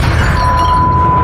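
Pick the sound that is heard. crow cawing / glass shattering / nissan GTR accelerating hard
glass shattering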